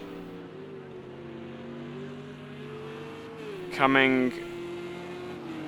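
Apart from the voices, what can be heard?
race cars including a Porsche driving towards the hairpin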